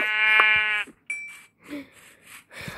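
Sheep in Minecraft bleat in a clear, harmonic-rich call near the start, followed by a few quieter game sounds and softer shuffling noises, with no talking.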